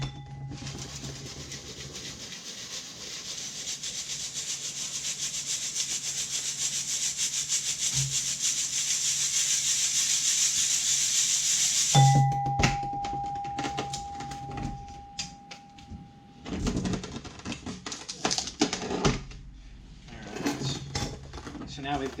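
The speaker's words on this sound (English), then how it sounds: "I'm going to pass this through the number 10 sieve." Dry soil is shaken and rubbed through a number 10 sieve, giving a steady gritty hiss and scraping that stops abruptly. A sustained tone and clinks follow, and a person speaks intermittently.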